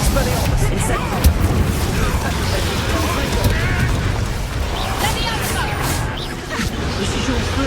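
A fire spell blasts in a fantasy wizard-school video game, giving a loud, continuous roaring rumble with crackling bursts, and a voice speaks over part of it.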